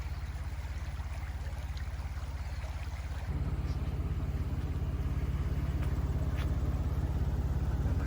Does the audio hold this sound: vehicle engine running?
yes